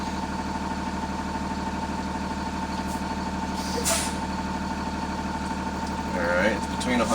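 A bus engine idles steadily with a constant low drone while air pressure builds, marked by brief hissing bursts from the air brake system and occasional faint voices.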